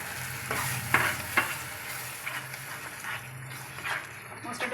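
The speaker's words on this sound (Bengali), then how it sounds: "মশলাটা প্রায় ভাজা হয়ে এসেছে।" Masala with chilli powder and a splash of water being fried and stirred for a dhaba-style egg curry: a continuous sizzle with repeated scraping strokes of the spoon, and a faint voice in the background.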